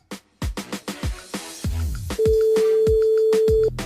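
A telephone-style ring tone sounds as a long steady electronic tone over a busy backdrop of rhythmic percussive hits and music, during a live tropical music radio broadcast as a call is placed to the station switchboard.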